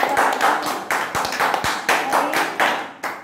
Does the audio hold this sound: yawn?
no